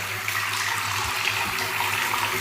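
Cold water gushes steadily from a tap, a loud close continuous splashing rush with a low hum underneath and no talking.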